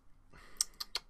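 Three sharp, close clicks of typing on a computer keyboard, quick and unevenly spaced, heard alone after a short quiet stretch.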